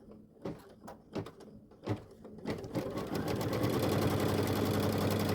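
An embroidery machine sews a tack-down stitch on fabric for a card holder: a few scattered mechanical knocks first, then a fast, even, continuous stitching clatter that stays loud and close.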